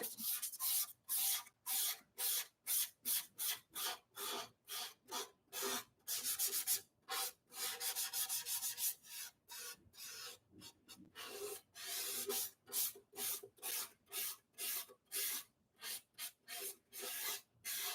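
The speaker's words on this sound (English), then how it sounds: "So I'm going to sand now delicately" Light hand sanding of a varnished violin, a steady series of short soft rubbing strokes with brief gaps between them, close and alone.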